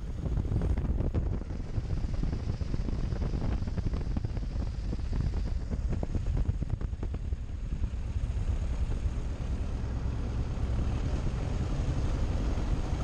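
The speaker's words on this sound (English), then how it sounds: "With run-ups complete, we backtrack down the runway." A historic light aircraft, G-AAOK, backtracking down runway 11 after run-ups on a hot day with variable wind, heard as a loud, steady, close engine drone buffeted by wind noise throughout, with no talk.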